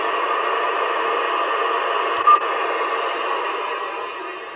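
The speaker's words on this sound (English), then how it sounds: "If you hear that hissing," An AnyTone ARES II 10-meter AM/FM/SSB transceiver puts out steady, band-limited receiver hiss for several seconds, broken midway by a faint click.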